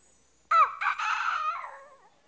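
A person imitates a bird call, a morning call from the provinces, in one loud burst of harsh cawing calls with a brief pause, trailing off over about two seconds, alone with no talk.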